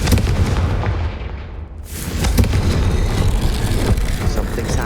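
A blasting spell in the game Hogwarts Legacy erupts in a loud burst, followed by a sweeping rush and rumbling booms layered over dense in-game action and music.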